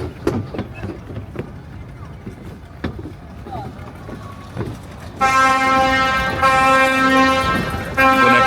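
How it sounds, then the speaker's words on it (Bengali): A tour boat departs from a harbour on a Nusa Penida day trip, its loud, sustained horn blast starting midway and holding for several seconds over the background crowd chatter and footsteps of the dock. "কোন একটা বোট ছেড়ে যাচ্ছে।"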